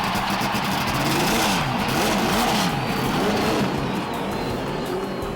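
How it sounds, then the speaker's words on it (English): Indianapolis 500 race car engines start and rev together, a dense, loud roar with rising and falling engine whines over a steady crowd-like wash, heard without any talk. "Ladies and gentlemen, start your engine."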